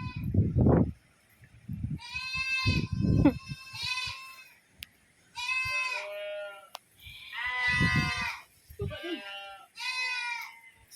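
Several goats bleat in a series of loud, wavering calls at a farm, some near and some a little farther off, with a person talking briefly in between and faint bird calls nearby.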